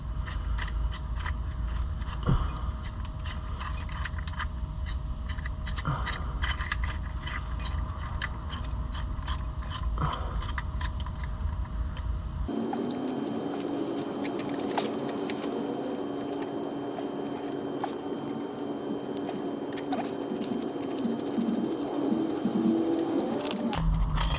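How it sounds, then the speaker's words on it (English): A caliper compressing tool works a brake piston back on a VW Mk3 VR6 Jetta caliper, with continuous close metallic clicks and ratcheting, then a lower, steadier grinding hum after a midway shift, with no speech. "I've got my caliper compressing tool here. I'm going to push the piston back"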